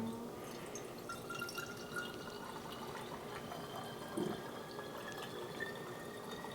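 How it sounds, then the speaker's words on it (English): Homemade elderberry fire cider trickles and splashes steadily as it is poured into bottles, a faint continuous liquid sound with small drips. "It's just a matter of pouring it into bottles."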